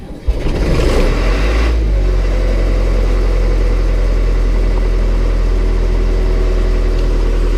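A diesel engine on hay equipment, with a corroded battery cable and a safety bypass, catches and starts, then settles into a loud, steady idle with a low, even rumble and no talking.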